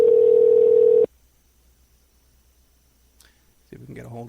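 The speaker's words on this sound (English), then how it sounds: "It's been ringing a couple of times." A telephone ringback tone plays on an outgoing call to a cell phone, one steady, clear tone lasting about a second before near silence, then a voice begins speaking.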